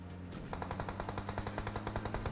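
Automatic rifle fire in the mobile battle-royale game PUBG Mobile, a rapid even burst of roughly twenty shots rattling in steady rhythm after a brief lull, loud and without speech.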